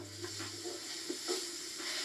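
Onion and button mushrooms frying in a pan, a quiet continuous sizzle with a few soft stirring scrapes.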